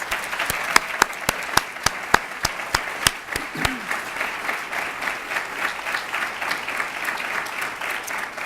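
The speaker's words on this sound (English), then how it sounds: "I want you to give our champions and all those who came to support them a round of applause" An audience at a White House Champions of Change event gives the champions and their supporters a round of applause, a full, loud crowd clapping throughout, with a few sharp, evenly spaced claps standing out near the front early on.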